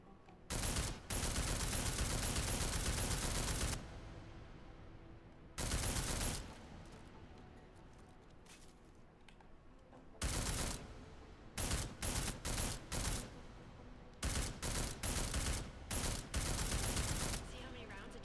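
Bursts of gunfire at an armored target in the video game Deus Ex: Mankind Divided, loud rapid volleys starting and stopping, a long burst early then several shorter clusters, with quiet gaps between.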